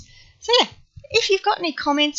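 A single quick sneeze bursts out near the microphone, and a person keeps talking right after it.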